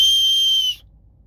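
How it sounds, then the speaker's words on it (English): A safety whistle carried on the wrist gives one loud, shrill, steady blast lasting under a second, then cuts off abruptly to near silence. "A whistle goes a lot farther than your voice does, especially if you have pressure on your chest."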